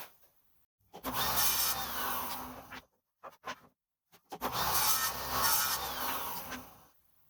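A table saw cuts a wood piece to length for a shop-made fence, two loud close passes of about two seconds each with a quiet lull and a few short knocks between them.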